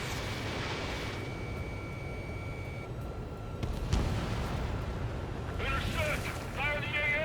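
Anti-aircraft fire in the Ace Combat 7 combat flight game, a steady rumbling barrage of explosions and mechanical noise with a sharper burst partway through, mixed with game sounds and a voice speaking.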